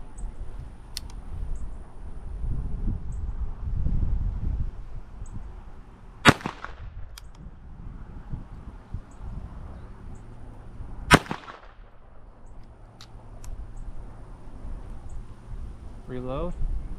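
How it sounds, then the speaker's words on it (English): A Bond Arms Stinger RS .22 pistol fires CCI Mini Mag rounds at a 7-yard range, two sharp, loud reports several seconds apart over low background rumble and faint talk. "we have the Bond Arms Stinger loaded up with two rounds of CCI Mini Mag. We're at 7 yards"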